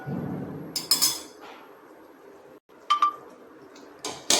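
A metal lid set onto a pan while egg bhurji cooks on low flame: a couple of short bright clinks and clatters, close and clear, separated by quiet kitchen hiss.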